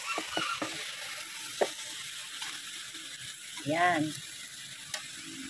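Shredded cabbage and green chili hit a pan of Filipino fried rice, giving faint scraping stirs and soft clattering utensil taps with a brief hiss midway, fairly quiet, with a short spoken word at the start.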